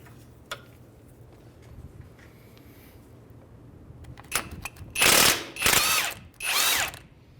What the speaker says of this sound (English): So we're going to use an impact with a swivel on this side